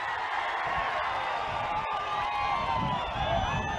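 Crowd clapping and cheering at a political public meeting in Uravakonda, a loud, steady roar of many voices and applause with shouts rising over it.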